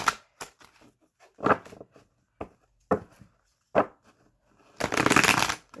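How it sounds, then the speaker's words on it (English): Tarot cards being shuffled in several short riffling bursts with pauses between, ending in a longer, louder riffle close by. "I have pre-shuffled these cards, but I will do a little bit more"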